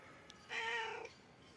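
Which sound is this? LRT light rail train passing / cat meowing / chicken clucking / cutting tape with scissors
cat meowing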